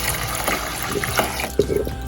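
Ice-cold water splashes and gurgles as it is poured into a hot pan during homemade rasmalai preparation, close and continuous with small plops and a sharp splash near the end.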